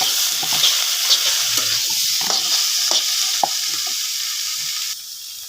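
Chopped tomato is stirred into vegetables and fried egg in a pan for vegetable noodles, with a spatula tapping and scraping lightly over a continuous close sizzle.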